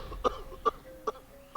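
An older man in a Bengali village drama, suffering from a chronic cough, coughs four times in short, dry bursts, each about half a second apart, close and clear with no talk.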